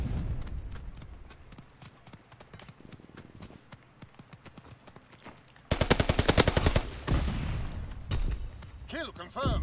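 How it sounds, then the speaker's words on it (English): Rapid bursts of in-game gunfire from Call of Duty WWII, Shadow War DLC, starting midway with dense, loud automatic shots, then further bursts and sharp weapon sounds, with a player talking over quieter early stretches. "this gun right here don't give a fuck if you one shot, huh?"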